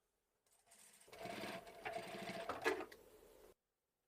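A sewing machine stitches a fabric scrunchie in a short continuous burst of motor whir and needle chatter, close and fairly quiet, starting and stopping cleanly with no talk.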